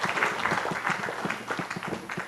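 Warm audience applause welcoming speakers onto a startup stage at a digital summit, many hands clapping in a dense, lively patter with some individually audible claps, fairly loud and steady.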